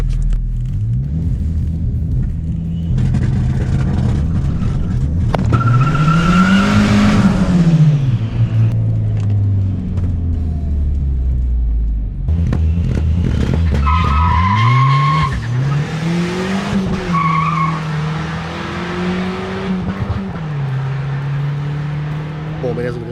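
A turbocharged VW Gol launching in a drag race against a BMW, with tire squeal and skidding, a loud engine roar rising and falling in two surges, and a voice talking over it.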